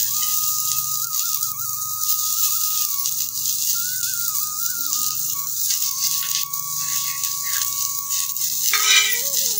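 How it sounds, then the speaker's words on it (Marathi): Onion roasting in a pan in a village kitchen gives a steady, fairly loud sizzle and frying crackle that goes on throughout, with a thin tonal whine running over it and a brief louder burst near the end. "कांदा भाजायचा चांगला."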